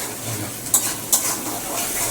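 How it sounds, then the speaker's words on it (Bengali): Onions and potatoes sizzle steadily in a pan, with two sharp scraping clinks from a utensil stirring them partway through. "তার জন্য পেঁয়াজ আলু এখানে ভাজা চলছে"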